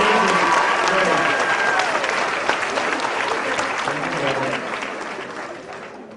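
Loud crowd applause and cheering at a fan convention Q&A session, a dense roar of clapping that slowly fades toward the end, with voices mixed into the noise.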